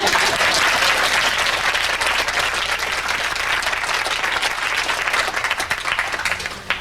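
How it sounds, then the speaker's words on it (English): Theater audience at a performing arts club's Alice in Wonderland presentation bursts into sustained, dense applause, a steady loud wash of many hands clapping throughout with no talk on top. "you can go ahead and clap"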